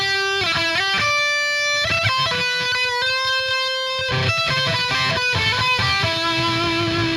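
Electric guitar plays the closing section of a lead outro, distorted sustained melody notes shifting step by step above a driving low rhythm part, loud and steady throughout, no voices.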